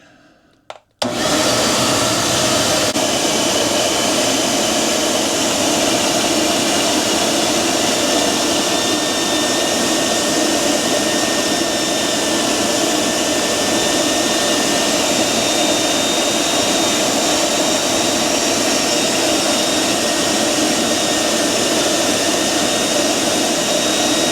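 A shop vac roars steadily, pulling air through about 25 feet of 4-inch flex hose, a loud constant rushing whine from start to finish after a brief click at the beginning.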